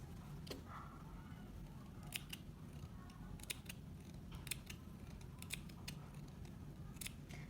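Scissors make a few quiet, separate snips as they clip fabric along a sewn curve of a topknot headband, each cut a short crisp click over a low steady background hum with no talking.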